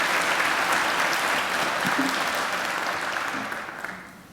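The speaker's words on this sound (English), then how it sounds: "I think Jane deserves another great round of applause for her address." Audience applause at a Macquarie University graduation ceremony after a commencement address, a dense, sustained wash of clapping from a large hall that thins and fades over the final second.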